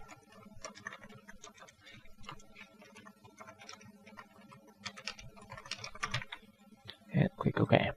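A computer keyboard clicks under quick, irregular keystrokes as a file name is entered for a new Photoshop canvas, light and close, ending in a louder burst of taps.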